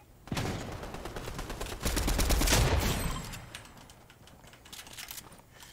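Rapid bursts of gunfire in a video game, dense automatic shots fading into scattered lighter pops, with no talking.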